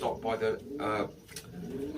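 A racing pigeon coos close by in soft, rounded, throaty calls that rise and fall in a few repeated phrases.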